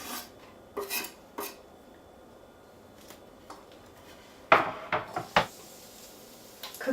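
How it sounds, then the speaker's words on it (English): Garlic tipped into onions in a cooking pot, quiet scraping and rasping with a few clattering utensil knocks against the pot, sporadic and close. "it looks like it's time to put the garlic in with our onions"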